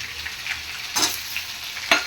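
Potatoes with poppy seeds fry in a pan with a steady, soft sizzle and crackle, broken by a few louder stirring scrapes near the end.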